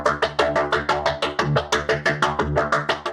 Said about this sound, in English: The instrument is UVI's Hypnotic Dive with this kind of acid house patch.